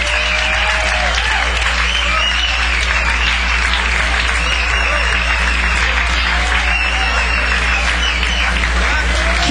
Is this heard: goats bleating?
no